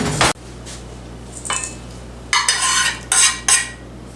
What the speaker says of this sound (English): I'm going to mix that together first,